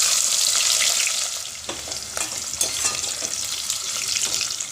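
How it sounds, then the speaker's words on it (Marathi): Chopped onion hisses loudly as it hits hot oil that already holds cumin, cloves and bay leaf. The sizzle is strong at first, then settles into steady frying with a few stirring scrapes close by. "नंतर लगेचच कांदा घालायचा."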